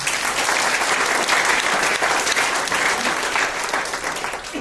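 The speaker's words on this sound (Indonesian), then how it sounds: "beri tepuk tangan untuk Prudential" Audience at a sales and insurance agents' talk breaking into loud, dense applause, a steady sustained roar of many hands clapping close by without speech, easing slightly toward the end.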